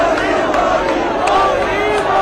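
A crowd gathers along the route of Prime Minister Narendra Modi's road show in Varanasi, with loud, continuous outdoor babble and scattered shouts. A reporter's voice carries faintly over the noise.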